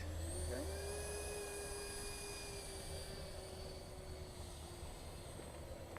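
An Xfly J65 Gulfstream RC model jet taxis on the ground with a steady, high whining drone that holds even and continuous, close by and with no talk over it.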